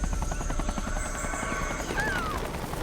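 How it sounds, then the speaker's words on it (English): A helicopter flying overhead with a steady, loud rotor chop throughout and a faint high whine over it, with no talk. "You hear that? That's a helicopter."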